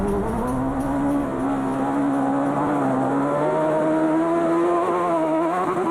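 A former MotoGP rider's single-seat rally buggy at Dakar 2012 ploughs through water, its engine droning steadily and loud with a rising and falling pitch throughout.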